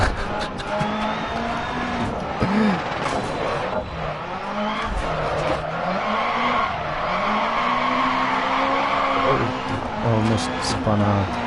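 A rallycross car in DiRT Rally nearly spins out, its engine roaring and tires squealing and skidding continuously while the pitch of the motor rises and falls, with voices talking over it.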